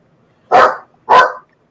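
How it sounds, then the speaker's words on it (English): A dog gives two loud, close barks about half a second apart, with silence around them. "I have no fucking clue why they're barking."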